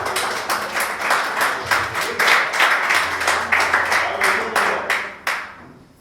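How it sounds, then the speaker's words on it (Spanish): A church congregation claps hard during a sermon, with sharp, uneven claps over a steady hum across six seconds. The clapping thins out and stops near the end. "Denle un aplauso fuerte a Dios."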